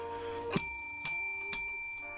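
A bell rings three times at an even pace, each bright strike left to ring out before the next.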